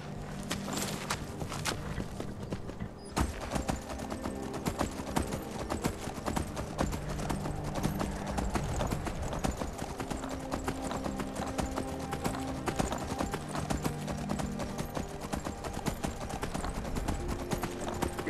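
Horse hooves clip-clop in a steady walking rhythm along a road in the video game Skyrim, continuous and fairly close, with a brief whinny and game music faintly underneath.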